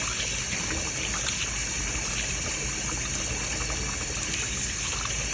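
Tap water runs steadily into a pot while white rice is rinsed on the stove until the water turns clear, a close, continuous splashing trickle with no talk.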